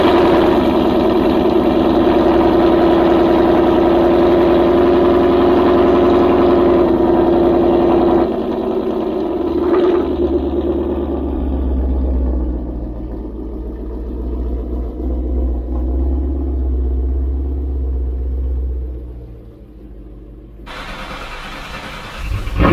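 A 2003–04 Ford Mustang Mach 1 running on E85 rumbles loudly up close through its exhaust. A steady throaty drone settles into a deep, low, pulsing rumble, then the engine cuts near the end.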